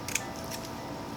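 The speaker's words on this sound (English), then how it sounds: "and then cut the roots" Scissors snip through the roots of a garlic bulb once, a short crisp close cut near the start, followed by quiet.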